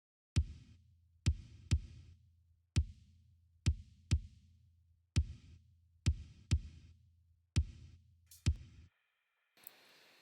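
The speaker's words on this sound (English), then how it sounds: "So it's drum sound that kicks in like this." Kick drum sample with gated reverb: about a dozen punchy, boomy hits in an uneven groove, each one cut off abruptly, with a short burst of noise at the end.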